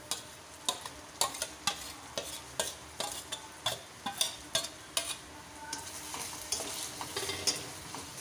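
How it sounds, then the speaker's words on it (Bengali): A paste of ground garlic, ginger and whole cumin frying in a pan, a low sizzle under a steady rhythm of spatula strokes scraping and tapping about twice a second. "মশলাটা কিছুক্ষণ ধরে একটু কষিয়ে নেব"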